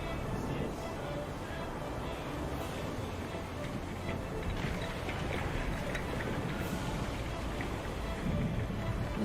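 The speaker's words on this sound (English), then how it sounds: "Lightning flashes to the west, followed by rapturous thunder, underscoring the sound of the sea." A steady wash of heavy rain and stormy sea fills the scene in the video game The Pale Beyond, with soft rumbles of thunder rolling underneath at a constant, moderate level.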